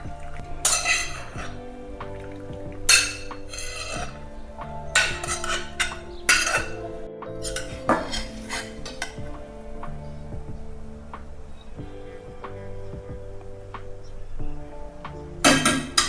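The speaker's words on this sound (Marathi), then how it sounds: "तर आता मी चाळणी ठेवले चाळणी एक पातेला ठेवलेले तर आता हे गाळून घेते" Cooked medicinal wild greens are strained through a sieve set over a pot, with scattered metallic clinks, knocks and scraping in irregular bursts over a quiet background hum.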